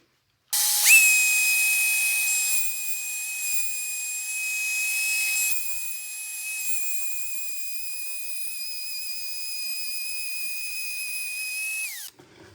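Router with a 3/8 inch bit plunging and cutting a truss rod slot: a steady, loud high-pitched whine holding for about eleven seconds after a brief start-up, then cutting off abruptly.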